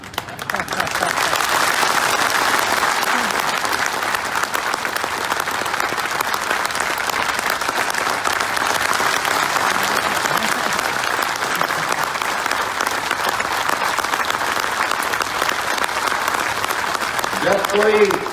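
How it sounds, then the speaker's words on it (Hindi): A large audience at a workers' conference rally in Guna claps continuously in a thick, even roar of applause that runs unbroken for many seconds, with only a brief sound at the very end. "चलो तालियों की गड़गड़ाहट।"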